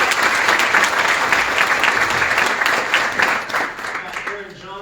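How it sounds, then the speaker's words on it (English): A room at a county commissioners court session applauds a staff member for 25 years of service with sustained, loud clapping that tapers off near the end, voices mixed in beneath. "Let's give her a round of applause."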